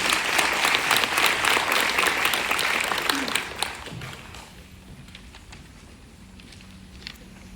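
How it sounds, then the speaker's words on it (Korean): An audience applauds to welcome the foundation chairwoman at a scholarship award ceremony, loud sustained clapping that fades out after about four seconds, leaving a quieter room with a few stray claps. "모두 큰 박수로 환영해 주시기 바랍니다."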